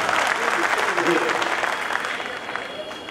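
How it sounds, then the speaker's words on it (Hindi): A mushaira audience at a school poetry recital in Mumbai breaks into applause, a dense clapping wash that slowly fades, with a voice speaking over it. "जरा सा एक मतलब जोरदार तालियों से इजाजत दीजिए"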